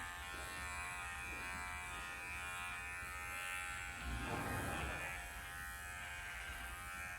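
Electric horse clippers buzz steadily and close by as they work along a horse's throat latch, a constant hum that thickens and grows louder for a second or two midway as the blades bite into hair.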